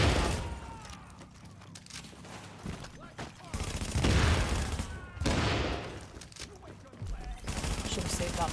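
Gunfire bursts with weapon recoil in a sci-fi shooter video game, rapid fusillade-like shots layered with booms and game sounds, fairly loud and continuous over several seconds.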